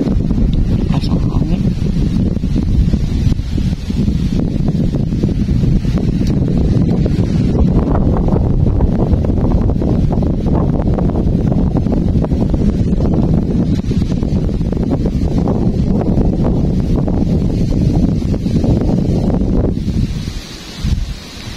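Strong, relentless wind blows at an outdoor fishing spot, a loud, continuous low roar and rustle with gusty surges that carries on steadily before briefly easing at the end.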